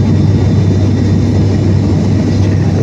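Steady, loud low-pitched engine drone with a constant hum inside the cabin of a low-cost Chennai to Trichy flight in the air; no voices.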